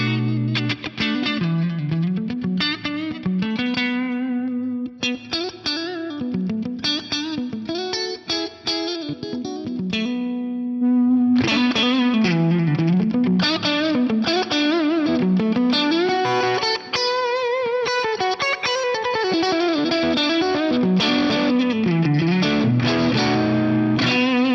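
Electric guitar through a Maxon OD 808 overdrive model plays a bluesy melodic line with gritty, warm distortion and a reverberant tail, loud and continuous with no voices.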